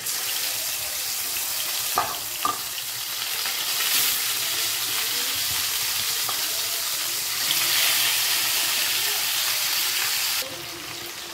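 Bhola fish frying in a pan for a spicy pea curry, a steady close sizzle running throughout with a few brief clatters of stirring and a louder burst of crackle near the end, no voices.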